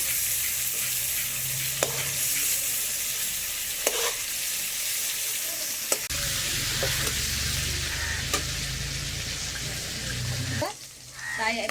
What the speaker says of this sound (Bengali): চিংড়ি মাছটা বেশি ভাজবো না, হালকা করে ভাজবো, বেশি ভাজলে মাছটা শক্ত হয়ে যাবে।